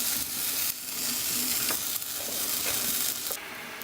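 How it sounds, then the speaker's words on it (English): Water boils in a pot on the stove while cooking Mexican red rice, a dense continuous bubbling hiss with a few brief clinks and stirring sounds, close and fairly loud, with no one speaking. "You can hear my water boiling."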